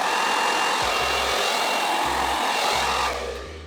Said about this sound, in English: I always like to tilt the hair dryer up like this